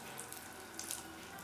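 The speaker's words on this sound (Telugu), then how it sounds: "ఇందులో కొన్ని వాటర్ పోసి పెట్టుకుందామండి." Water pours steadily into a mixer grinder jar holding roasted peanuts for chutney, a faint, continuous trickle and splash heard up close with no talking.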